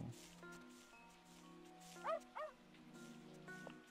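A dog barks twice in the video game Cult of the Abyss, short close yips rising over a quiet bed of looping musical tones and faint rustling ambience.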